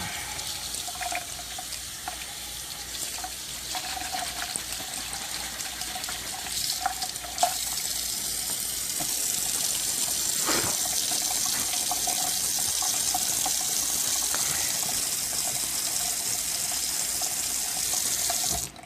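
Tap water runs steadily into a sink while a pan is rinsed under it, a continuous near splash with a few brief clinks and knocks of the pan.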